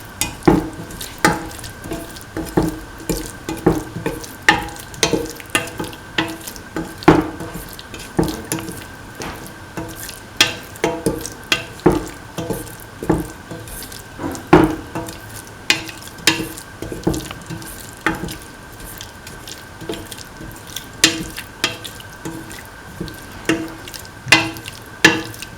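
A spoon stirs a cottage cheese and coconut milk stew in a pan, with steady repeated scraping and tapping strokes over a low bubbling simmer, continuous for a long stretch with no voices.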